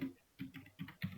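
Fingers tap out a short burst of keystrokes on a computer keyboard, shift key included, in four or five quick clicking clusters, close and quiet with no voices.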